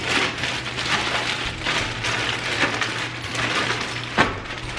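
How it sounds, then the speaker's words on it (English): Potatoes tossed with oil and minced garlic inside a zipped plastic bag, a continuous close crinkling and soft rustling as the bag is rolled around, with one sharper crackle near the end. "then we'll zip this up and just roll it around"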